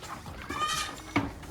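A goat bleats near the milk stand: one wavering, nasal bleat in the middle and a sharper, short bleat just after it. Both are close and stand out over quiet background noise.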